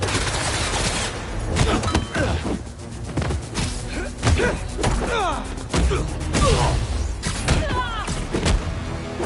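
Gunfire and impacts crash through a Spider-Man 2 video game battle, with rapid bursts of shots, heavy thuds and whooshes overlapping in loud, irregular volleys.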